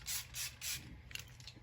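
A spray bottle misting air: three quick hissing sprays in fast succession, close and loud, followed by a few fainter clicks and short spritzes.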